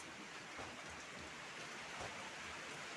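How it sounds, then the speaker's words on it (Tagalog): Heavy rain pours down in a dense, steady hiss with a low rumble underneath, a constant wash of drops in a rural setting with no talking. "Ang lakas talaga ng ulan. Sobra ang lakas."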